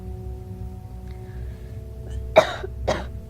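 A video game character gives two short coughs close by over a faint steady background hum, the first sharper and louder than the second.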